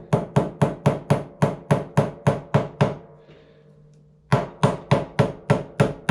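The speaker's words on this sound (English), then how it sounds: "I'll get that little hammer." A small hammer taps a part into place on a Walker mower: a steady run of sharp, close metallic knocks, a brief pause, then another quick series of even taps.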